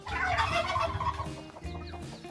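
Turkeys gobble loudly and close by on a rural farm, a rapid burst of rattling calls followed by a second, shorter gobble.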